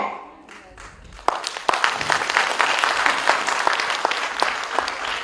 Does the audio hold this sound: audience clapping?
yes